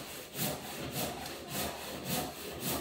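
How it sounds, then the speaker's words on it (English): A handsaw cuts through a log at a wood carving session in steady back-and-forth strokes, about five rhythmic rasping pulls at moderate distance, with no voices. "he's sorting out a log there, using the handsaw"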